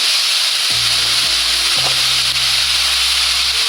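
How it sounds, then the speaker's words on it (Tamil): Onions sautéing in a pan for tin fish gravy give a steady, close sizzle and hiss throughout, with a low hum in the background and no voices. "இப்போ வதங்கி வருது வெங்காயம்"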